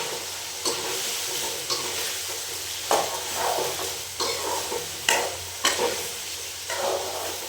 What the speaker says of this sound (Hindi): अब मैं तड़का लगा दिया है आलू और प्याज का